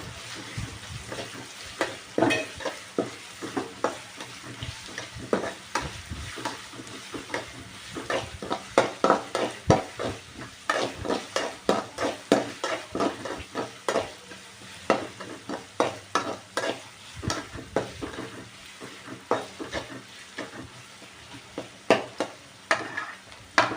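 Onions and curry leaves frying in a pan, steady sizzle broken by repeated scraping stirs in an uneven rhythm, close and moderately loud with no talking.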